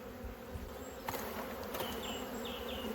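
Dense, steady buzzing of many honey bees up close, a continuous droning hum with no talking.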